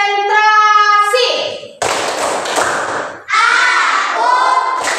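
Classroom children perform a rhythmic concentration clapping routine, with chanted voices alternating with bursts of sharp claps and table taps in patterned groups, loud and close.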